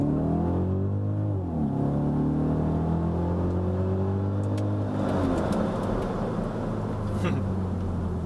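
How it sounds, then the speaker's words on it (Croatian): A BMW 645Ci's V8 engine launches hard from a standstill, its loud rising growl climbing steadily in pitch and staying strong and continuous throughout. "launchaš V8 BMW-a prvi put u životu"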